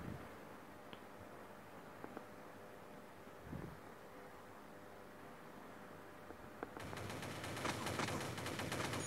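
Gunfire in the mobile shooter Crisis Action starts as a few faint, scattered shots over a quiet background, then turns into a loud, dense stream of rapid fire near the end.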